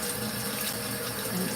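Water runs steadily from a kitchen tap into a sink, a continuous hissing splash at moderate level with no talk over it.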